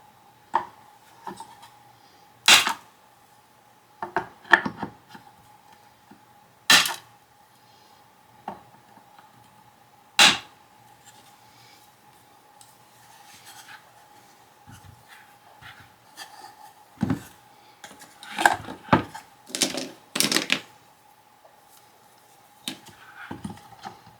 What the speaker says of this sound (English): take my pliers here and I'm just going to trim those off